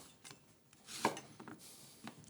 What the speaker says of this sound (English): I need some onions, so I better chop these.